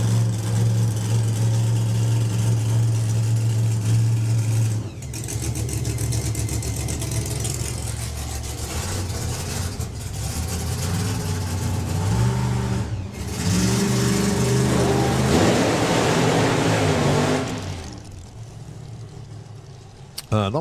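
A drag racing car at the Summer Nationals idles with a deep, loud rumble, then revs in sharp bursts and climbs through harsh acceleration before cutting off, with a voice talking over it.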